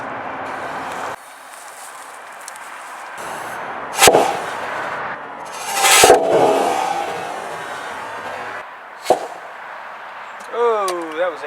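A small 3D printed can cannon loaded with black powder substitute fires outdoors, a couple of sharp pops and a louder burst standing out against background noise and voices.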